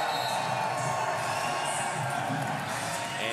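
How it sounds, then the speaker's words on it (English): Stadium crowd at a Legends Football League game between Las Vegas Sin and Seattle Mist, a dense, continuous wash of cheering and whooping from a large audience, steady and fairly distant, with no single voice standing out. "The crowd is absolutely loving every moment of this."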